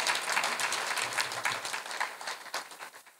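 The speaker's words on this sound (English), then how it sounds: "can we give them another warm round of applause?" Applause at a Virginia Union University press conference, a short burst of clapping from a modest crowd in a room, fairly even and then thinning out toward the end.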